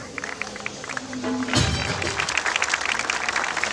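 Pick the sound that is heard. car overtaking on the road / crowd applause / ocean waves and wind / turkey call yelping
crowd applause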